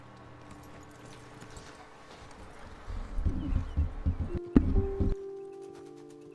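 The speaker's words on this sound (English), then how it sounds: "let's dismount here. Best leave the horses back a bit." Horses walk on ground in the Red Dead Redemption 2 video game. After a quiet ambient opening, a close run of hollow clip-clop hoofbeats lasts about two seconds and then fades.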